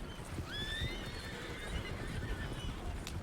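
Horses in Red Dead Redemption 2 neigh and whinny in a high, wavering call over a steady rumble of hooves and background noise.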